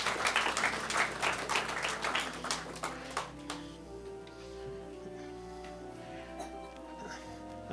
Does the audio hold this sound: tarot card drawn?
no